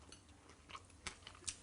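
Deep-fried whitebait is bitten and chewed close up, giving several quiet, sharp crunches spaced irregularly over a faint, hushed background.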